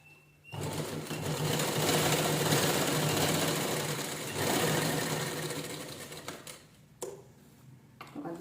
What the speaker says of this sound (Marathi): ह्या साईडनं बघा असं उभं स्टिच करून घ्यायचं एकसारखं